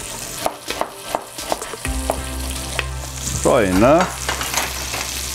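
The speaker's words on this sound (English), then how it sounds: "The bacon is almost rendered." Bacon rendering in a pan gives a steady close sizzle with occasional stirring scrapes, and a brief spoken remark rises over the frying partway through.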